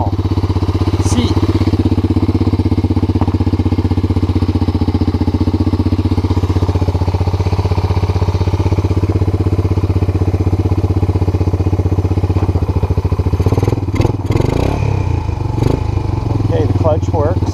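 A Honda Four Trax TRX250 ATV engine drones steadily and close throughout a test ride, with rattling clatter near the end; no speech is heard.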